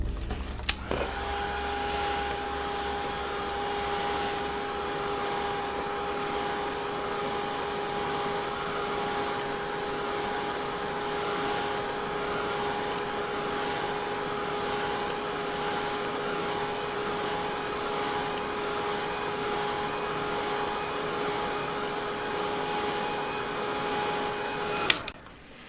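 A hair dryer blows steadily and evenly over a watercolor lace painting for about twenty-five seconds, a constant close whirring drone that clicks on at the start and off at the end.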